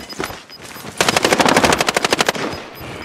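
Automatic gunfire in the video game Call of Duty: Modern Warfare, a loud rapid burst of about a dozen and a half evenly spaced shots after a few scattered quieter pops.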